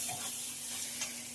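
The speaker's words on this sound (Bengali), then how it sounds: "মশলা কি নিয়েছি: শুকনো লঙ্কা, আদা আর রসুন। তো মশলা কিন্তু খুব ভালো করে ভাজা হয়ে গেছে" Dry chilli, ginger and garlic frying in oil for a fish curry, a steady close hiss of sizzling with a brief stir partway through.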